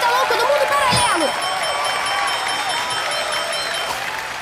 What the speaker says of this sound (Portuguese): Uma salva de palmas para Radamel Falcão